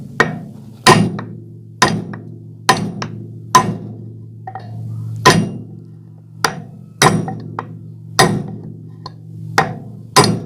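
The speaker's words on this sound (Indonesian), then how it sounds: "Kita pukul di sini." A hammer strikes a bolt set through a strong wooden block to drive out the shaft of a rice polishing machine, about a dozen sharp, loud metallic blows at an irregular steady pace, each ringing briefly, with no talk.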